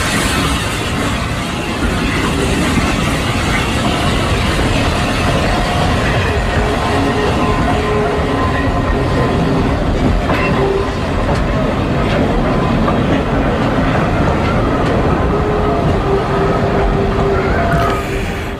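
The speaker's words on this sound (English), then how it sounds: "the train makes its approach, gently hissing steam as it does" A steam train pulls into Downpatrick station, a loud continuous rumble of wheels and carriages with a steady hiss of steam rising over it, close and sustained throughout.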